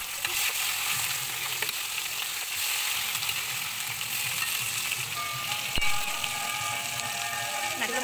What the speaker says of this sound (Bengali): মাছগুলো ভাজা হতে থাকুক, ভেজে নিয়ে তারপর দেখো